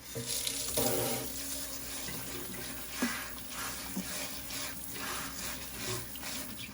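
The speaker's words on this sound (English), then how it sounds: "Rinse it in cold water." Cold tap water runs steadily over hominy being rinsed in a sink, a soft continuous splashing hiss with small clatters, quiet and close with no talking.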